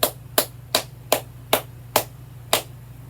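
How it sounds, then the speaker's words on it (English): Slow, evenly spaced hand claps, about seven sharp single claps in a steady rhythm, greeting a baseball player drafted by the San Francisco Giants, with no talk over them. "Round of applause"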